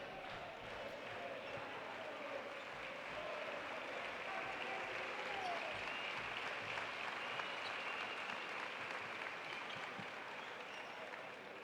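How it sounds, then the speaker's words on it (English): Crowd applause fills an arena at a 2016 FIBA Liga Sudamericana basketball game, Gigantes against Olimpico. It is a steady, distant wash of clapping and crowd noise that carries on throughout. "Applause there was for Justin Williams."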